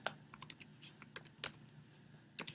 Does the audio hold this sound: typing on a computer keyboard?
yes